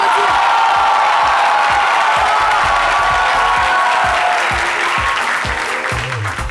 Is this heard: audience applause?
yes